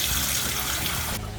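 Tap water runs steadily over salted mackerel in a sink, a continuous close rushing splash that cuts off abruptly near the end.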